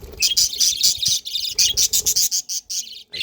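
Several pairs of young adult birds in a breeding colony chirp busily up close, quick bright calls in rapid bursts with short gaps, loud and uninterrupted by any voice.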